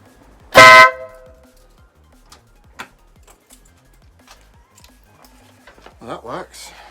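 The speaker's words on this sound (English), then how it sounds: "Oh, I didn't test the horn." A car horn sounds in one loud, short blast, followed by scattered ticks and small clicks, with a brief voice near the end.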